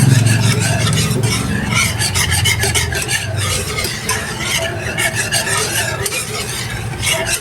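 Kimchi mixture being worked by hand in a bowl, producing wet, squelching, rubbing and crackly stirring sounds close up in a continuous, busy rhythm.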